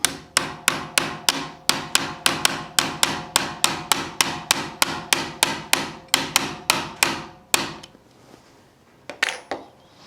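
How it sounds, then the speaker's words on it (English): An 1/8 inch roll pin punch is hammered into a CZ P-10 pistol frame, about twenty sharp metallic strikes in a quick steady rhythm, close and loud, then a pause and two final taps. "Using an 1/8 inch roll pin punch, I'm just going to drive it home."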